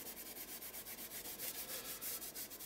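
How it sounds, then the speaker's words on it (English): A wet wipe rubbed back and forth over an art journal page with firm pressure, giving a steady run of soft, close, rhythmic scrubbing strokes with no talking. "I'm putting a little bit more pressure on the wet wipe just to kind of force it to diffuse"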